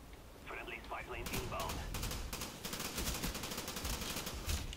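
Sustained rapid gunfire from a Call of Duty Black Ops match, dense bursts of automatic shots running continuously and loudly, with a brief voice heard faintly near the start.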